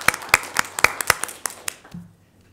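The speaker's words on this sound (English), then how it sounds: "I think they should receive an applause." A short burst of clapping from attendees at a school board of education meeting, a handful of hands clapping close and distinct in an uneven rhythm that thins out and stops within about two seconds.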